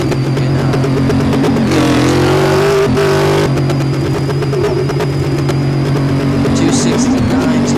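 A car engine in Car Mechanic Simulator drones loud and steady, revving up through the gears with a brief pitch jump at each shift, run up to fifth gear at high speed.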